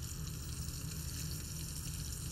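Meat browns in a pan on the stove, giving a steady, faint sizzle with a constant low hum underneath and no talking.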